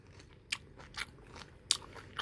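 Close, crisp crunching bites and chewing of freshly fried flounder, several sharp crackles spaced unevenly over a couple of seconds.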